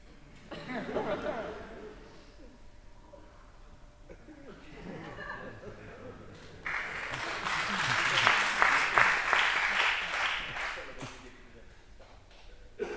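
Theatre audience at a stage performance breaks into loud applause after a stretch of speech and murmuring, the clapping swelling in the second half before fading, with a voice and light laughter earlier on.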